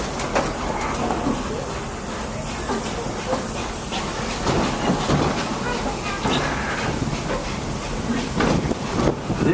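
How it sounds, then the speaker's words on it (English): A Magic Kingdom steam train runs steadily throughout, with a continuous rumble, hissing and rhythmic rail clatter close by, and a busy background of ambient noise around it. "There are some who say that this steam train is a little old-fashioned, but for me, it's the only way to travel."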